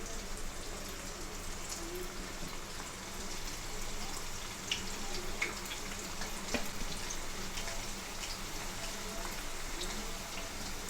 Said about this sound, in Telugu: నూనె కాగిన తర్వాత ఈ బాల్స్ అన్నీ వేసి వేపుకోవాలి